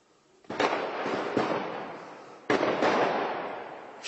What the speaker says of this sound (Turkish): Dakikalardır patlıyor orası.